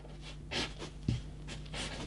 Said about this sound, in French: je vais écrire dessus exercice 2